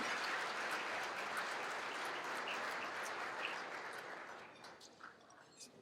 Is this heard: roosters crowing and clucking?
no